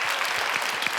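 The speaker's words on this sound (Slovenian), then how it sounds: "Aplavz za družbo, ki jima je pomagala pri takele množični plesni točki." A wedding crowd breaks into dense, sustained applause for the group that performed a mass dance number, many hands clapping loudly and continuously.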